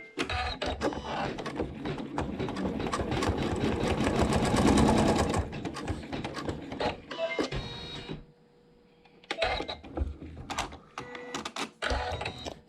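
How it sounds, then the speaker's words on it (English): An embroidery machine tacks fabric down in a hoop with a loud, rapid stitching rattle that runs steadily for several seconds, drops into a brief near-silent pause, then resumes in short choppy bursts. "Step 11, we'll tack this down"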